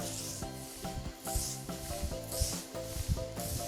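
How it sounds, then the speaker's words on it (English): Roller spreading epoxy across a garage floor in small sections, a soft rhythmic rubbing and rolling with repeated strokes, close and quiet, no voices. "use a roller to start rolling the epoxy onto the floor in small sections"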